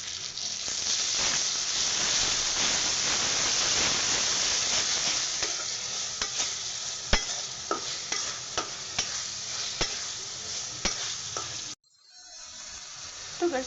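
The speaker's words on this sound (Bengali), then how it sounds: "আমার মশলাটা ভাজা হয়ে গেছে।" Ginger, garlic and cumin spice paste with salt frying in a pan over browned onions, a steady dense sizzle with repeated sharp scrapes of stirring, until the frying cuts out near the end.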